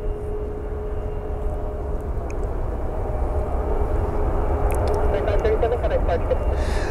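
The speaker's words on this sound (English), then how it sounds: "Southwest Airlines flight 1255 inbound from Nashville. Should be" A Southwest Airlines Boeing 737-700 arrives at Cleveland Hopkins, its broad jet engine rumble building steadily and growing louder toward the end.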